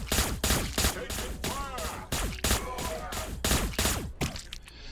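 A rapid volley of loud gunfire from units in the strategy game Warhammer Battlesector, Astra Militarum Kasrkin, with regularly spaced sharp shots and whizzing ricochet sounds, while a voice talks throughout.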